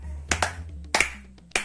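A few sharp hand claps, spaced unevenly, close and crisp over a low steady hum, with no talking.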